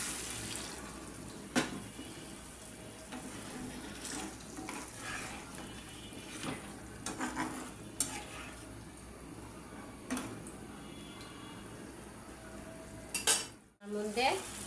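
Milk poured into egg bhuna and stirred in a frying pan, with a steady low sizzle under repeated scraping and clinking of a utensil against the pan, plus a brief louder rattle near the end.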